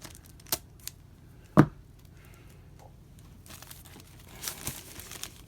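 Scissors cut open a plastic blind bag of Batman comics: one crisp close snip with small plastic rustles and crinkling around it in a quiet room.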